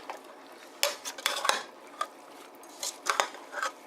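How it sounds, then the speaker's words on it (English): A utensil stirs homemade salsa simmering in a pot, making irregular clinks, knocks and scrapes against the metal at close range over a quiet background. "Alright, let's give this a stir."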